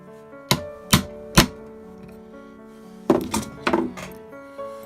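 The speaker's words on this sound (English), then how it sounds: "I'm going to take this coin cutout and we're gonna chop it right about there." A hard chopping blow cutting through a coin cutout piece while making a homemade padlock: three sharp, loud thunks spaced evenly, a pause, then a rougher cluster of strikes with metallic ringing, close to the microphone.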